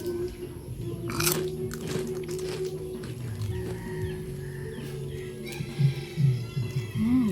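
Crunchy bites into a large cucumber during a Filipino mukbang, a few crisp snaps and chewing sounds close to the mic, with a rooster crowing in the background.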